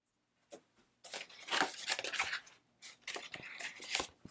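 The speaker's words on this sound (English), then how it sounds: "I'm probably not supposed to be using these scissors on this kind of material." Scissors snipping through glitter heat transfer vinyl, a run of short crisp cuts and rustles in quick bursts, close and fairly quiet with no voices.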